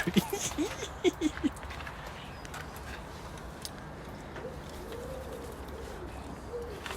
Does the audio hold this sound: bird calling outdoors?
yes